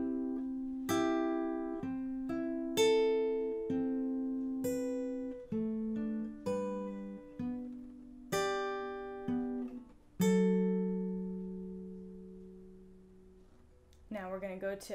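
Plucked guitar plays the chord progression from a song, with clear picked notes ringing and decaying one after another at a moderate pace, alone and close.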